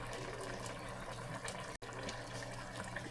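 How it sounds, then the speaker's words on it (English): Vinegar is poured into a pot of pork adobo with bay leaves, making a soft, steady trickle of liquid, quiet and close, with one brief break partway through and no talk. "Now we're gonna add a little vinegar in here."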